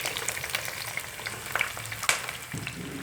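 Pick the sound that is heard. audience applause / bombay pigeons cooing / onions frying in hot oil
onions frying in hot oil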